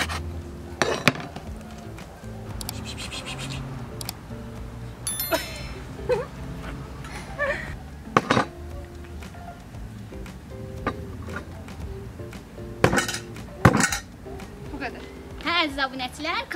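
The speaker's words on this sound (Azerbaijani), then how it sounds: "kankimlə toyuğu doğradıq" A knife chops raw chicken on a board in a kitchen, giving sharp, irregular thwacks and clinks with occasional harder strikes, while people talk throughout.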